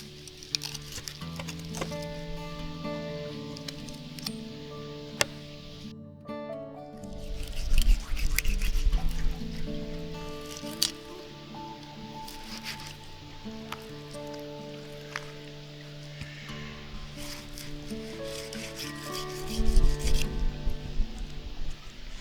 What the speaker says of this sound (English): the first thing I do is I like to cut these big fins off